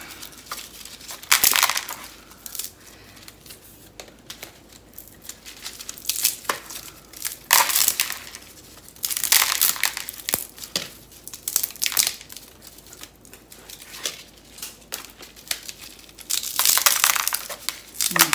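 Dried okra seeds pouring and rattling into a container, a run of crisp, crackly bursts that come and go in several waves over quiet background rustle.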